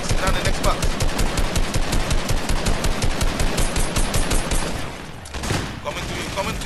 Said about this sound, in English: I'm gonna keep shooting, go wrong.